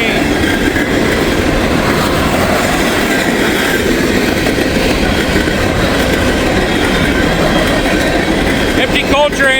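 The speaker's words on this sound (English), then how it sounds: "Empty coal train, most likely coming from Middletown." An empty CSX coal train rolls past close by, a loud continuous rumble of wagons and clattering wheels that holds steady throughout, with a brief metallic squeal near the end.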